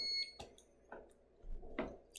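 A monitor's alarm beeps in a brief electronic tone at the very start, followed by scattered handling clicks and light rustling, faint and close.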